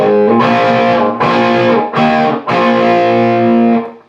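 Heavily distorted electric guitar chugging a riff in first position, loud and close, with several sustained chord blocks separated by brief breaks.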